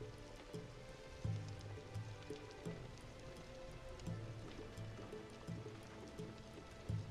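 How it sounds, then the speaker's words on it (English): Steady rain falls in a scene from the video game Assassin's Creed Shadows, a dense hiss that runs unbroken throughout, with faint low thuds and rustles beneath it. "The rain can mask our escape."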